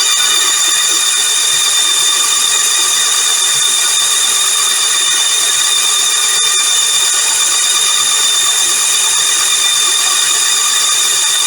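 A Norton Commando 850 MkIII motorcycle engine turns over on its electric starter, a loud, steady mechanical whir with a constant high whine, continuous throughout with no talking.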